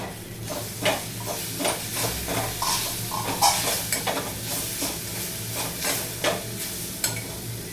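Lasuni methi, garlicky fenugreek greens, is stirred in a pan as it cooks. A spoon scrapes through the greens in steady repeated strokes over a constant sizzle and hiss of frying, close and clear.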